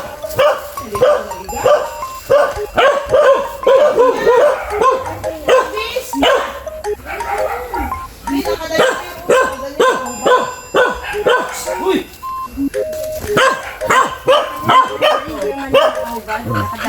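Dogs bark repeatedly in short bursts throughout, close by, with some yips mixed in and people talking over them.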